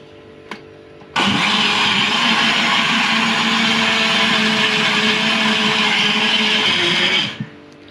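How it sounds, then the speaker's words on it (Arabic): An electric blender whirs loudly and steadily for about six seconds, blending chocolate sauce ingredients with whipped cream and vanilla, starting abruptly and cutting off at the end, with no talk. "ابتدي بقى اضرب كل مكوناتي مع بعض."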